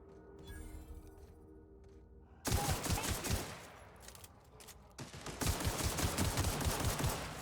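Rapid automatic gunfire in the shooter The Outer Worlds, dense bursts of shots erupting after a quieter start, pausing briefly, then resuming in a sustained rattling volley.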